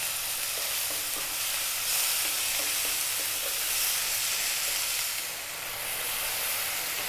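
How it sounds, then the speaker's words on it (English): Tomatoes frying in a pan for an Indian vegetable dish, a steady loud sizzle and steamy hiss running throughout, with faint scrapes of stirring underneath. "You want to go for about 4 or 5 minutes now, stirring often."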